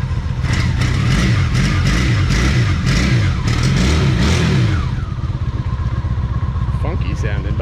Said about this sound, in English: Funky sounding bike. I thought it would sound a lot different